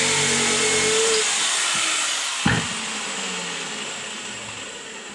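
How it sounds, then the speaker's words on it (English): A steady high-pitched jigsaw whine runs throughout, with a brief sharp knock partway through as the blade cuts out a fishing lure shape. "I'll go cut this out with the jigsaw"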